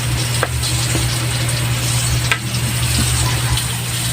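Steady, dense sizzling of salmon belly frying in oil, continuous throughout with a low hum and occasional small pops and clicks.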